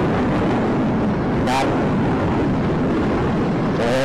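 Wind rushes into a motorcycle helmet mic with the visor open while riding in traffic, a loud continuous roaring buffet throughout, with passing vehicle noise and a brief spoken word.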